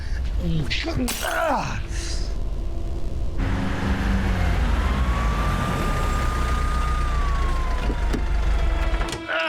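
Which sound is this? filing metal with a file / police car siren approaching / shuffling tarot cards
police car siren approaching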